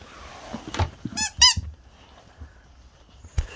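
A squeaky hamburger dog toy gets squeezed several times in quick bursts, giving loud, close, high-pitched squeaks with short gaps between them and one more squeak near the end, with no talking over them.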